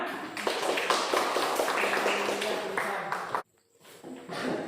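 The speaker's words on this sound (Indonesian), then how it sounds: "Tepuk tangan untuk kelompok 5." A classroom full of people clapping together in a dense burst of applause that stops suddenly, followed by a brief pause and light noise.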